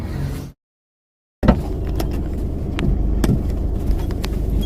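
Steady road rumble from a car being driven through Kochi city traffic, with a brief dropout near the start, then continuous engine and tyre noise with a few faint clicks, no talking.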